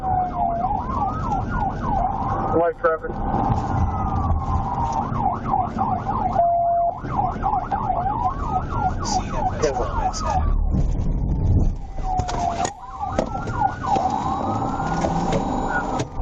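Arkansas State Police car siren wailing during a pursuit, cycling up and down in repeated sweeps with a few yelp-like bursts, loud and continuous over road rumble, with police radio chatter talking over it.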